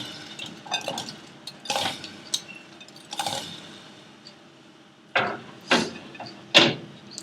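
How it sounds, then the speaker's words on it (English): Fried gulab jamun dumplings land one after another in warm sugar syrup, each drop a sharp clink or splash against the pot, with several spaced hits, then a quick cluster of three near the end. "we'll now start tossing in these fried dumplings into our sugar syrup, which has to be nice and warm"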